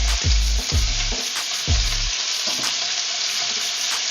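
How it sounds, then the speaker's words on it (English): Garlic sautés in a hot pan for Filipino pork adobo, a bright continuous sizzle with several low thuds and scrapes from stirring, close and fairly loud, with no voices. "At this point, add the garlic"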